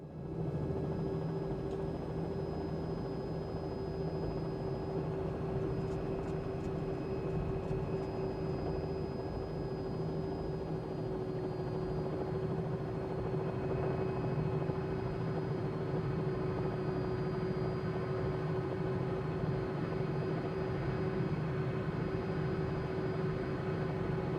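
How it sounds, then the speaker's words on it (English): Robinson R66 helicopter cruising over the Alps in Microsoft Flight Simulator, a steady, unbroken turbine whine and rotor drone with a constant tonal hum, loud and close from start to finish with no talking. "Today we'll be flying the Robinson R66"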